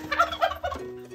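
A turkey gobbles in a quick rattling burst, followed by a couple of shorter squawky calls, close and fairly clear.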